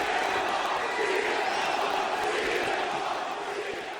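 A Chicago arena crowd at a WWE Elimination Chamber event cheers for their hero, a loud, sustained wash of roaring voices with scattered shouts that fades slightly at the end.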